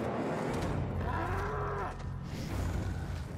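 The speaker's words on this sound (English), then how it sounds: "you sounded like a cow there" Creature in Shadow of the Beast lets out a cow-like moo lasting about a second, moderately loud over background game noise.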